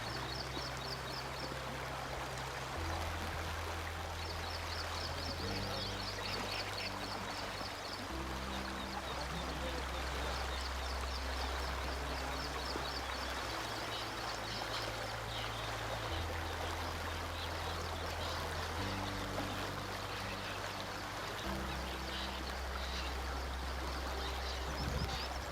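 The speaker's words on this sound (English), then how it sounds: "the chirping of the birds, the gushing sound of Narmada ji." Clear, clean water of the Narmada river rushes and gushes steadily and close by, with birds chirping faintly high above the flow throughout.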